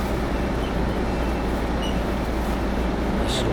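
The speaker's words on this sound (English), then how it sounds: "We're traveling on a Yutong bus" A Yutong bus travels along a road in Myanmar between Ngwe Saung Beach and Yangon. Heard from inside, there is a continuous low rumble of engine and road noise with a faint rattle, and nobody speaks.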